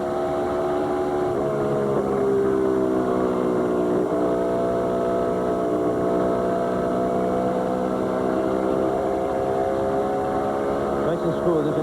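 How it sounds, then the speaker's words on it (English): Onboard a NASCAR stock car running down the back straightaway in the 1999 MBNA Platinum 400, the engine drones loud and steady at high revs, its pitch rising and dipping slightly as it holds speed. "Listen to his race car."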